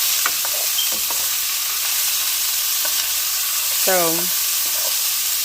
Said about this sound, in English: I'm going to let these sausages kind of get a little brown